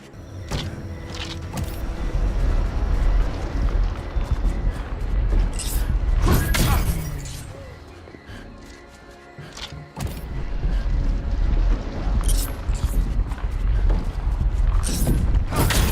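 A heavy temple door in a Marvel PC video game grinds open with creaking mechanical rumbles and low booms, a sustained loud cycle that dips briefly then resumes, over an ambient game soundscape.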